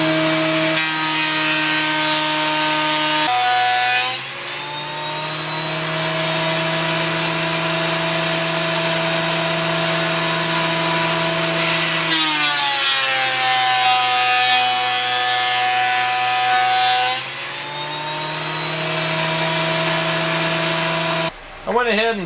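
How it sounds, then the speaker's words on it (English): Oak boards run through a thickness planer, a loud steady motor whine with cutting roar, pitch shifting as each board enters and exits, ending abruptly near the end. "we're just going to put all of our boards through the planer until we get a nice uniform thickness"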